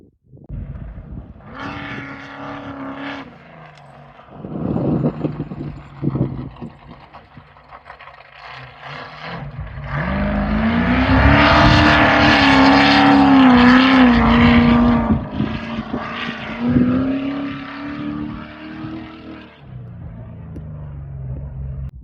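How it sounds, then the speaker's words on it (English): A souped-up race truck roars in during a Vegas to Reno desert race, its engine note swelling loud and close at the midpoint, then easing off while it drives on. "It sounds like a truck. It sounds like a big truck. Souped up."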